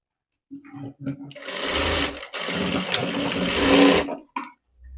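A sewing machine double-stitches an invisible zip into a blouse, running in a loud close burst for a few seconds, briefly pausing, then continuing, while a voice speaks around it.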